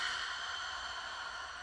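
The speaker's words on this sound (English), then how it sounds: "Breathing in." A single slow breath drawn in during a guided morning prayer, soft and airy, close and steady for under two seconds with no talking.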